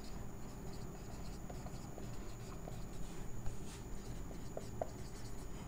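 Pen or marker scratches faintly, writing notes during a biology lesson on plastids, in short light strokes over a steady hum with no talking.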